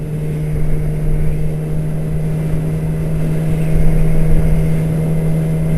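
A 2006 Yamaha YZF-R6 sport motorcycle under way, its engine and wind roar steady and loud, swelling slightly as the throttle opens partway through, with no voices.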